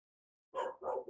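A pet dog barks twice in quick succession indoors, fairly close, with no talking over it.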